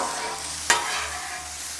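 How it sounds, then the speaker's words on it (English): Potatoes, onions and carrots stir-fried on a Blackstone griddle, a steady close sizzle with one quick scrape of a spatula partway through. "I'm going to mix together our potatoes, onions, and carrots"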